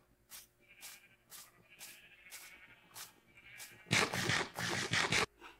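Sheep in the Minecraft video game bleat in a run of short repeated calls, a few separate ones first and then a louder, denser burst near the end.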